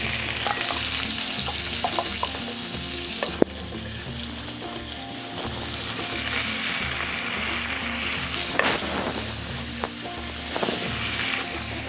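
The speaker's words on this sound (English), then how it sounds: "I'm going to drop my veggies. Hear that sizzle." Vegetables sizzle loudly in hot bacon grease, a steady crackling fry with occasional stirring clatter, close up.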